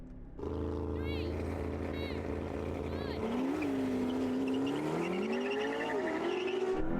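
McLaren P1, Ferrari LaFerrari and Porsche 918 supercars racing, engines roaring loudly and rising in pitch through gear changes, sustained and close with a high whine sweeping up and down.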